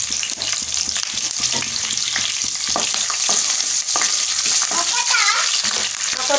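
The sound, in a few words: green chillies and curry leaves frying in a pan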